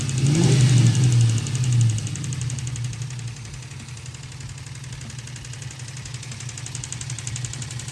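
Ford Mustang with a broken, barely spinning cooling fan, engine running with a rough low drone that swells briefly then settles into a steady idle with a faint repetitive knock.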